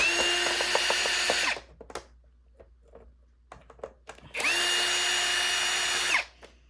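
A power drill backs screws out of a Shark NV501 vacuum during a teardown. Two loud, close whirring bursts of about a second and a half each are separated by quiet clicks and rattles of handling.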